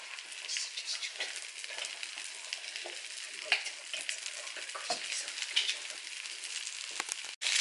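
Pork loins fry in coconut oil with a steady, close crackling sizzle that runs throughout, dotted with sharper pops and spits, with no talking.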